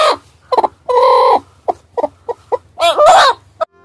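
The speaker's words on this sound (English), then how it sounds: "H for hen." A hen clucks in a close series of short, sharp calls, with several longer drawn-out squawks between them and a loud burst near the end, heard alone.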